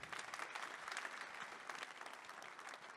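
An audience claps at a Drupal conference opening ceremony, a continuous, even roll of many hands heard from a distance and fairly quiet, with no voices over it.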